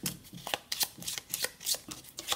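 Oracle cards shuffled by hand in a quick series of soft riffles and flicks, close and quiet, with no talk.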